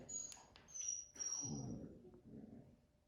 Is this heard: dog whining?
yes